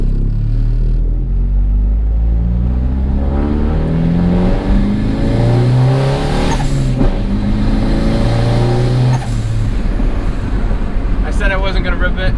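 A turbocharged Honda Accord accelerates hard, its engine roaring loudly up through the revs with rising pitch sweeps and a brief dip between gears, heard close from inside the car with a constant rumbling wind and road noise underneath.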